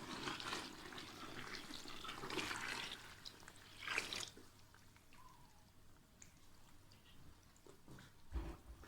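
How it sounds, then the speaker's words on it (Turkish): Water poured into a bucket holding quicklime, a faint continuous splashing and gurgling pour over several seconds with a few small knocks near the end. "Üzerine 4 kilo su koyacağım."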